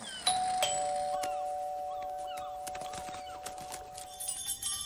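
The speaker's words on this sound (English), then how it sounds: "They only wake up to the sound of the doorbell." A doorbell chimes with sustained ringing tones that slowly fade, a few faint clicks and light knocks scattered around it.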